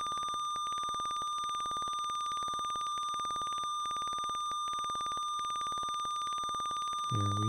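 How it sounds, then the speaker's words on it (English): Odd electronic beeping from the computer game Aliens: A Comic Book Adventure: a steady, rapidly pulsing high tone that runs continuously and alone, with a brief lower burst of sound at the very end. "that's such a weird beeping, right?"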